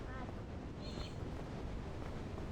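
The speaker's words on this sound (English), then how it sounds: "Oh, it's windy." Wind in the PEAK video game blows as a steady, full whoosh of rushing air that fills the short moment, with a faint high tone passing briefly over it.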